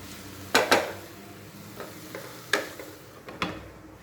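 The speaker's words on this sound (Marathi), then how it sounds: "आणि आता कारलं शिजतच आलेलं आहे" Bitter gourd curry with tomato, onion, jaggery and tamarind cooking in a pan: a soft continuous sizzle broken by several sharp spoon scrapes and taps against the pan, heard close with no talking.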